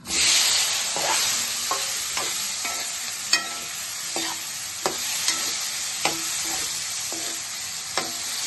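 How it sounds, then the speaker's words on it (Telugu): Cauliflower pieces fry in hot oil in a pan, a constant close sizzle broken by regular clinks and scrapes of a utensil stirring every second or so. "మనం కాలీఫ్లవర్ వేసుకొని వేపుకుందాం"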